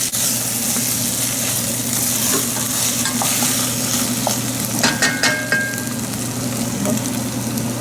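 Food with cilantro is stirred in a pan, a steady hissy scrape with a few clinks of the utensil toward the end, close and fairly loud.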